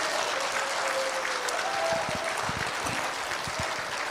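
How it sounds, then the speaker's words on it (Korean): A church congregation applauds, a steady wash of many hands clapping throughout, with a few individual claps standing out close by. "다시 박수하겠습니다."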